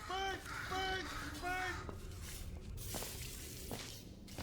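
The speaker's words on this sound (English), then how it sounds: "that's probably the bird in it that laid the eggs" Crow-like caws from a bird in the Portal 2 game, three harsh harmonic calls in the first two seconds, loud and close, followed by scattered thumps and game noise.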